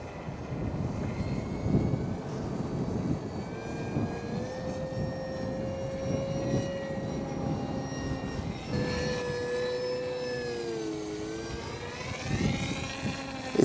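A FinWing Penguin FPV RC plane flies slope work off a hill, its motor a steady whine that rises and falls in pitch as it passes, heard outdoors over wind rumble.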